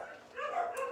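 Indoor dogs keep barking, a run of close, moderately loud barks and yelps that continue steadily with no voices over them.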